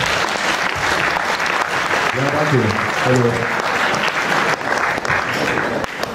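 Loud audience applause for a speaker at a Science Slam lecture event, dense clapping running the whole time while someone briefly speaks over it midway.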